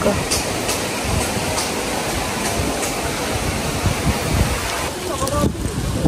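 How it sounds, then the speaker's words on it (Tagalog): Strong wind roars steadily across the microphone by a riverbank, with a rushing, open-air rumble and no clear talk. "Mahangin."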